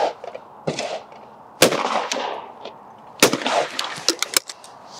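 Browning shotgun fired at clay targets outdoors: several sharp, loud gunshots in sequence with irregular spacing, each followed by a brief echoing decay.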